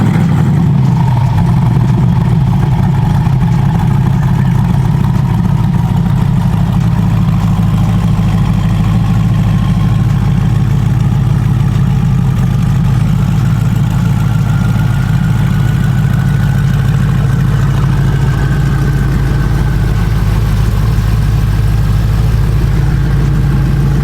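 A 1300 hp twin-turbo Corvette C8 E-Ray with a built 427ci engine running right after its first start, settling into a loud, steady, deep idle that rumbles on without a break.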